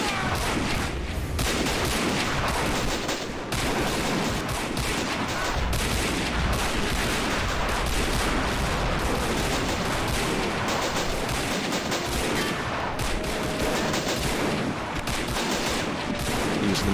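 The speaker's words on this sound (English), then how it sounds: "Using the machine guns now" Continuous machine gun fire from a toy soldier trench battle in Army Men of War, dense rattling bursts that keep up steadily and loudly for the whole stretch with no talk over it.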